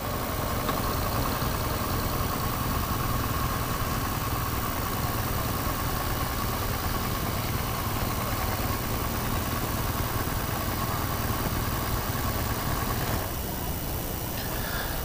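A BMW R 1200 GS motorcycle idles nearby without pause, a constant low rumble and buzz that holds unchanged throughout.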